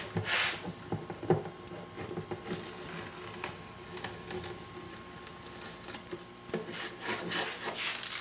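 Accelerator being rubbed into the wood during repair work on an Ovation Legend acoustic guitar: soft, intermittent scratchy rubbing strokes, quiet and close, with brief sharper scrapes scattered through.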